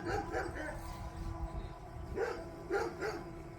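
A dog barks and yips in short bursts, a few quick barks early and another cluster later, moderately distant against a low background rumble.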